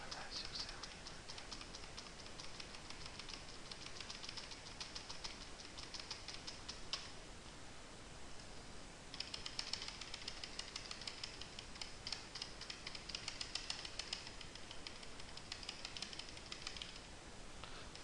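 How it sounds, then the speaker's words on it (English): Rapid, steady clicking of computer keyboard arrow keys pressed repeatedly, a dense run of light ticks that pauses briefly midway, with faint speech in the background. "I counted to 40 clicks of the keyboard"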